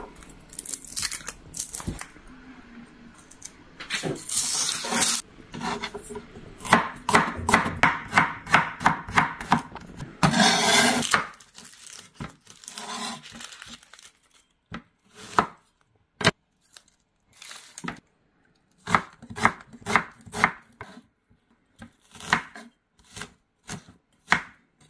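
Garlic, onion, tomato and eggplant are chopped with a knife on a board for Filipino pork binagoongan, dense fast rhythmic chopping at first, then slower spaced single cuts, close and crisp with no talking.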